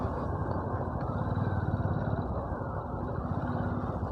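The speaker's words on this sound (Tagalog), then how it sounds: "may motor pala dito" Motorcycle engine idling close by at night at Batangas Pier, a rapid low throbbing putter, steady and fairly loud, with faint background ambience and no talk.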